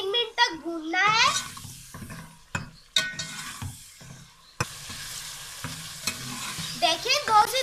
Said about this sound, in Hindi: इसे हमने 2 से 3 मिनट तक भूनना है।